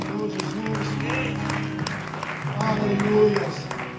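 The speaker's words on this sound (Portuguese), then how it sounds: "Dê uma salva de palmas ao Senhor Jesus." A church congregation claps in praise, a soft steady patter of many hands running beneath a voice speaking and singing over it throughout.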